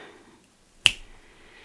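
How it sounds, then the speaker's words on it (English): A single crisp finger snap, close and clean, rising out of a quiet room tone with nothing else around it. "Snap your fingers."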